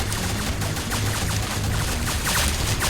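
Dense, continuous gunfire rattles through a battle in the video game Ancient Warfare 3, a loud unbroken stream of rapid shots and booms layered together with no break.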